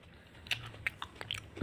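Teeth bite into a crunchy, freshly picked plum, a few sharp, close crunches and wet chewing clicks spaced irregularly, with no talking.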